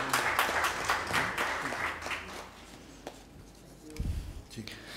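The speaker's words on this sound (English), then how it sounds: "I'll request all of you to please give a big round of applause to him as well." An audience at an awards session applauds a jury member, a burst of clapping that thins out and fades, with some talk and scattered hand sounds near the end.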